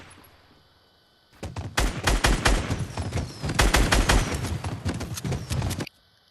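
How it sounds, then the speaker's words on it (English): Fireworks burst in a rapid, dense barrage during a Fortnite match, loud crackling pops firing continuously for several seconds before stopping abruptly. "You don't really need to worry about the fireworks"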